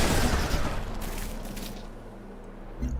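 Gunner units fire in Civilization Beyond Earth as a rumbling volley of in-game gunfire and booms that starts loud, fades out, and ends with a brief final burst.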